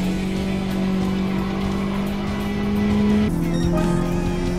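Race car in Gran Turismo 7 running laps in a Toyota 86, a sustained engine drone that shifts pitch partway through, with tire squeal as it corners, loud and steady with no voices.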